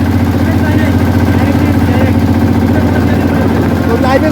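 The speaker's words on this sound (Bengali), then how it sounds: "আমাদের স্পিড বোট চলতেছে।" A speedboat engine drones steadily as the boat runs across Mahamaya Lake, a loud, constant mid-pitched hum with faint voices mixed in.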